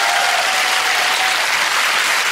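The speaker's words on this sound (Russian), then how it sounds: "Еще раз огромные аплодисменты." Loud, dense studio audience applause on a Russian TV show, a close and steady roar of clapping filling the whole moment with no talk.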